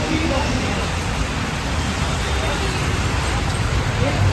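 Rain pours steadily outdoors, a dense even hiss that fills the whole stretch, with distant babble of people and faint road noise mixed underneath.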